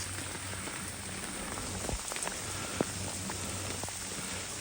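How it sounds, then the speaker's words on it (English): Steady rain patters on surfaces with a soft continuous hiss, a few louder drops landing nearby, in a chameleon enclosure. "Enjoying the rain."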